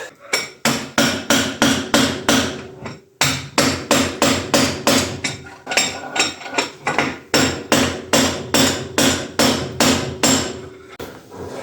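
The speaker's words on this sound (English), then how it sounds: "I'm going to see if we can hit one out" A hammer pounds a piston out of a John Deere 3130 diesel tractor engine with the connecting rods undone: a steady run of about two dozen loud metallic blows, close and regular, broken by one brief pause.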